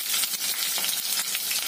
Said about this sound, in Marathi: त्यानंतर हिरव्या मिरच्या घालूया,